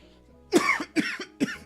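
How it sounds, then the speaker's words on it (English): Three close, harsh coughs in quick succession, loud and near, over a low steady background hum. "Sorry for coughing into the thing."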